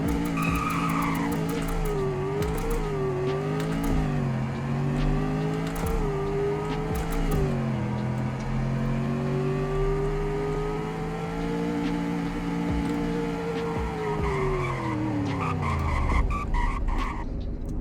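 A car in the Greenville video game braking hard, with a long, loud engine drone that winds down over about seventeen seconds as the tires skid, ending in a sudden drop to quiet.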